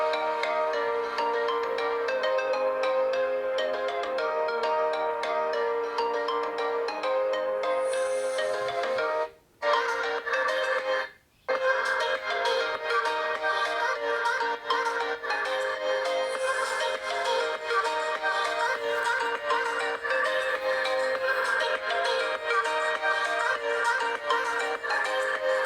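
A Doogee N30 budget smartphone's built-in speaker plays music with steady tones throughout, briefly cutting out twice, at a moderate, fairly quiet level with no talk.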